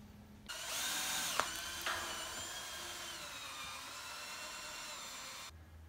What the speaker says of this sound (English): we're gonna drill it in place over here through the double layer fire hose